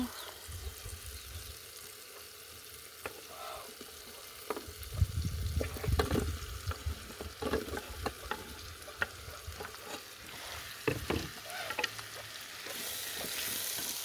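Potatoes added to a hot pan fry with a steady sizzle, broken by scattered clinks and scraping from stirring, fairly faint and close with no talking.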